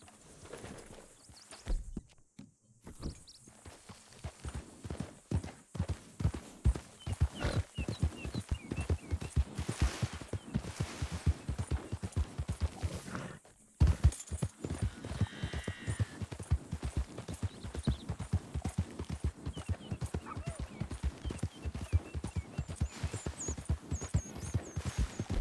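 Horse hooves clip-clopping steadily at a walk in Red Dead Redemption II, a continuous close rhythmic patter with a brief pause partway through and no talking.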